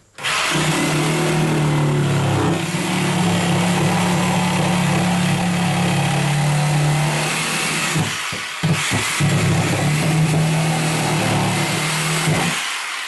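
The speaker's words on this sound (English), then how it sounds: "being careful when I use my Sawzall that I'm only going through when I need it" A Sawzall reciprocating saw cuts through plywood during a bathroom remodel, a loud droning motor buzz with rapid chatter running almost continuously, briefly interrupted by a few quick stops and restarts near the end.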